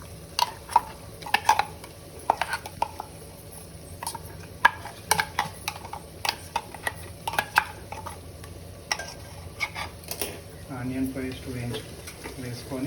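Onion paste frying in oil over low heat, a soft sizzle under a spoon scraping and clinking against the pan, with a person talking intermittently throughout.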